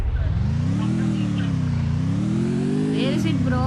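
Motorbike engine in the shooter game Free Fire, a loud continuous drone rising and falling in pitch as it revs, steady throughout with people talking over it.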